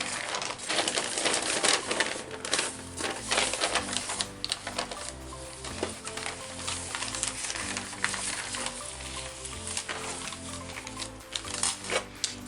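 A paper bag is cut down into pieces for scrapbook pockets, giving a run of crisp, repeated snipping and rustling sounds up close, over a faint steady tonal background.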